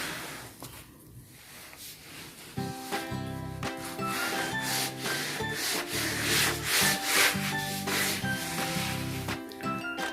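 A cloth wiping excess Mod Podge sealant off the top of a diamond painting, giving a close, continuous scrubbing rub that starts softly and grows firmer, with no talk.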